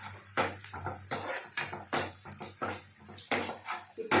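Green chillies sizzle in a pan while a utensil stirs them, giving repeated scraping and clinking strokes over a steady frying hiss, close and moderately loud.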